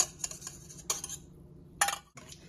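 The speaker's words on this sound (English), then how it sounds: "So I'm just going to continue to stir it." A utensil stirs butterscotch caramel in a pan, with several sharp scraping clinks against the metal and quiet gaps between them, heard up close with no talking.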